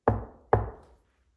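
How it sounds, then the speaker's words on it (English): Two sharp knocks on a wall, about half a second apart, each loud and close with a short resonant decay, then silence. "What if I knock back like Bigfoot"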